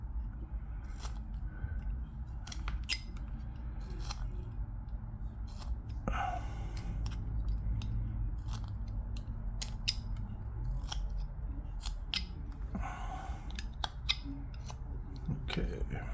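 Knife carving wood for a small barrel, repeated sharp cutting clicks and scrapes in an irregular rhythm, close and fairly crisp, with soft breaths between strokes.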